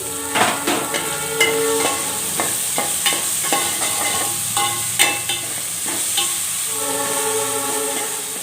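Chopped onion and green chillies frying in a pan for a prawn gongura curry: a steady, close sizzle hisses throughout, broken by irregular clacks and scrapes of a spoon stirring.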